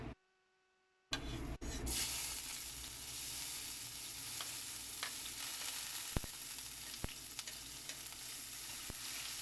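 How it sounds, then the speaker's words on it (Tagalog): Chopped garlic hits a hot pan to start a sauté for a spare ribs kaldereta, giving a loud, steady sizzle after a brief silent moment, with occasional sharp clicks of a utensil against the pan. "Unahin natin ang paglagay yung ating bawang."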